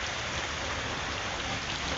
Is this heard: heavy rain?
yes